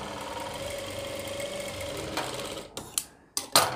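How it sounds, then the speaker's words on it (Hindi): A sewing machine stitches a long designer kurti in a rapid mechanical whir that runs steadily, then breaks into short stop-start bursts with brief pauses toward the end, up close and with no talking. "आप उल्टी तरफ से भी इस तरीके से सिलाई लगा सकते हैं"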